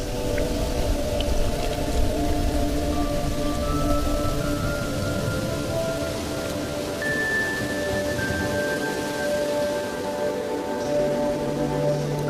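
Steady rain falls near the Mara River, a dense, continuous hiss of drops with a low rumble underneath, constant in level throughout.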